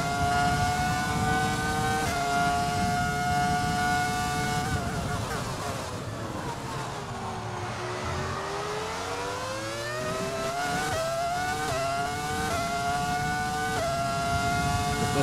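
A Ferrari F2004 Formula 1 car in the racing game F1 2020, its high-pitched V10 engine revving loudly and steadily through gear changes, with a dip in revs under braking before climbing again.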